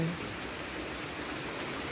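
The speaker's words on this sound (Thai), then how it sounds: "มีแต่ฝน" Steady, dense hiss of windless rain falling on a surface, constant and close, with no distinct drops standing out.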